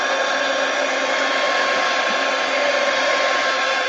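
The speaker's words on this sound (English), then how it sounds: "Heat gun." A heat gun blowing steadily during art journaling with stencils and pink and purple paint, a continuous loud airy whoosh with a broad hiss, uninterrupted throughout with no talking.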